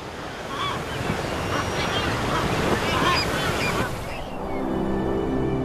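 Ocean surf rolls and washes continuously along the Pacific shore of the Galápagos Islands, a steady broadband roar with a few faint bird calls, shifting to a lower, calmer wash near the end.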